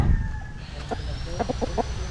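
A chicken clucks several times in short, quick bursts over a steady low rumble of background noise.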